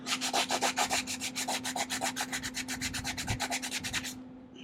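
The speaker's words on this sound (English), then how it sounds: "Or it could just be because this sandpaper here is been used several times now." Rhythmic back-and-forth sanding with well-worn sandpaper on a Case 8840 windrower part, steady rasping strokes about eight per second, close and loud, stopping abruptly near the end.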